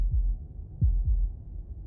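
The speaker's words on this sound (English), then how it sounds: "That was the sound of a heartbeat, followed by another." Low, thudding heartbeats from the Slay the Princess video game, several deep pulses in a quick double rhythm, close and muffled, alone without talk.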